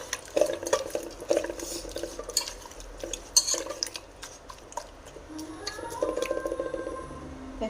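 Mutton being mixed by hand with salt and spices in a bowl, giving soft wet squishing and stirring sounds with occasional light clinks of the dish, close and irregular.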